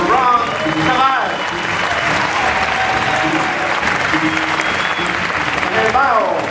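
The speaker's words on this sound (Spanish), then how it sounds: "Por favor, un fuerte aplauso" A concert audience applauds loudly and steadily for a jazz quintet's drummer, the clapping sustained under an announcer's voice at the start and end.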